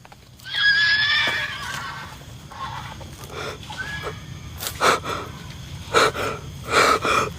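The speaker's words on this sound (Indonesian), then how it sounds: "Suara kuda bahaya, cuy." A horse near a bamboo grove lets out a loud, shrill whinny close by, then snorts and breathes heavily, with scattered hoof knocks.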